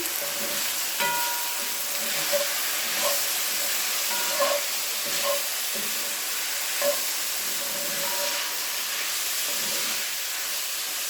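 Chicken fried rice made with leftover rotisserie chicken, peas and carrots sizzles steadily in a hot pan. A constant frying hiss runs throughout, with faint stirring taps and no talking.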